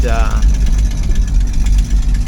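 A 1966 Ford Mustang engine, its carburetor in need of tuning, idles with a steady low rumble and vibration that stays loud throughout, with a brief rising whine at the start.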